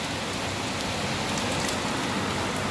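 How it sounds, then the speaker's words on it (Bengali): Heavy rain pours steadily, a dense uniform hiss with scattered drops spattering on surfaces, no voices present. "এত বৃষ্টি পড়ছে"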